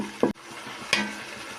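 Chicken gizzard and liver masala frying in a pan, with two short scraping stirs of a spoon against the pan over a soft, steady sizzle.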